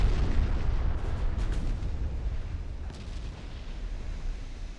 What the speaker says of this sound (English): that might be a kill shot on the battleship